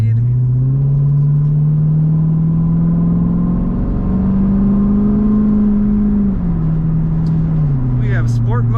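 A 2012 Chevrolet Corvette Grand Sport Convertible accelerates along a road, its V8 rising in a steady climbing drone through a gear change, heard close from the cabin with a voice briefly near the end.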